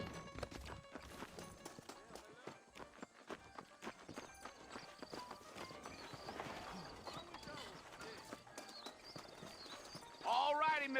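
Saddled horses clip-clopping in the Western video game Red Dead Redemption, a steady run of hoof beats mixed with game music and ambience while characters talk over them.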